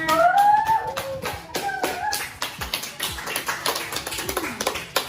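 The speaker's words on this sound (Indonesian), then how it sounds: "Tepuk tangan untuk Sahira." Classroom applause for a student's economics presentation: bursts of sharp, uneven hand claps from a group, loud and close, fading into scattered claps.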